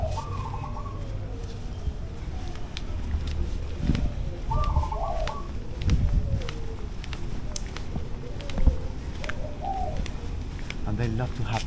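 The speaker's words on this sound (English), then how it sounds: "And they love to have these birds." Caged birds at Tirta Empul temple in Bali coo in soft, repeated low calls, joined by scattered chirps over a steady outdoor background with faint activity nearby.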